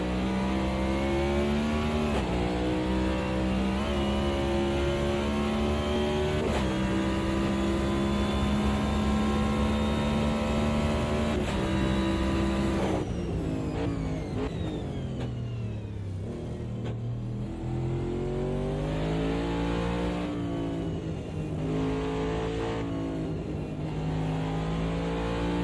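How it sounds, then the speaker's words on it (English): Race car engine from a Can-Am sim racing game on the Indianapolis Motor Speedway road course, a loud continuous onboard whine that holds steady, drops sharply on a gear change, then climbs again under smooth throttle, with no talking. "Have a nice listen to that throttle application."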